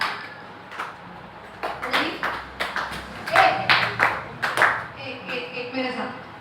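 A religious discourse audience claps along in a few sparse, uneven bursts of hand claps, moderately close and fairly quiet, mixed with light background murmur and shuffling.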